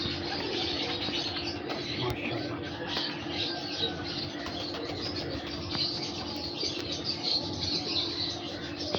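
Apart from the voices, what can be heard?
breeder pigeons cooing and flapping wings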